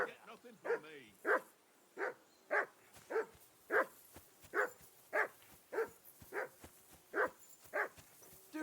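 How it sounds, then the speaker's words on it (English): A hound in the video game Kingdom Come: Deliverance II barks repeatedly in an even rhythm, around a dozen clear, close barks spaced roughly half a second apart. "Be quiet, you flea-bitten hound."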